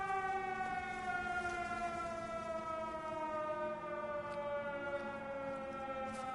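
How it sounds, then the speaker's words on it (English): A long, steady air raid siren wail in the video game Everybody's Gone to Rapture slowly glides downward in pitch, a continuous tone sounding from a distance with no voices over it. "Yeah, that's the air siren."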